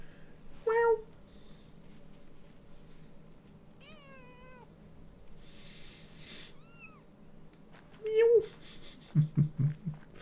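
Cats meow in the medieval-village video game Pentiment as a cat and its kitten are petted: a few short high mews near the start and again near the end, with low soft thumps and faint background sounds in between.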